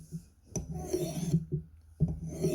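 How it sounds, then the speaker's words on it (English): A knife is worked on a Work Sharp field sharpener, giving a few short, soft rasping strokes in an uneven rhythm, heard close and fairly quiet. "Anybody else use a work sharp field sharpener?"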